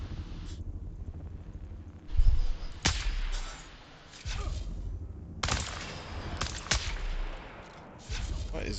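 Gunfire in the Dune Awakening video game: scattered sharp shots and short bursts, some loud and close, others quieter, spread unevenly across the stretch, with a voice talking in between.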